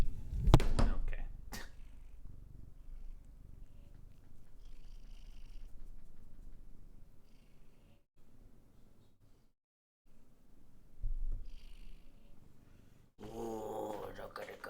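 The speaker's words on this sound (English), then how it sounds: "look at the cat" A cat purring up close, a soft, low rumble that goes on through most of the stretch, with a sharp burst at the start, a brief silent gap, and a louder noisy burst near the end.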